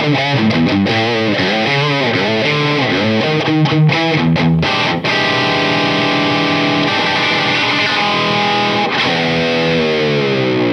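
A loud, heavily distorted electric guitar, an Antiquity AQ35 semi-hollowbody, plays chugging chords and sustained notes, then rings out with long held tones.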